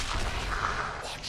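A grenade goes off in the tactical shooter Valorant, a short, loud, broad explosive boom that fades away within about a second.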